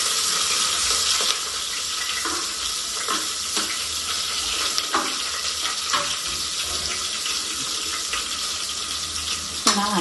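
Finely chopped onion with green chilies frying in hot oil in a pan: a steady loud sizzle and hiss throughout, with occasional scraping stirs and clicks of a utensil against the pan.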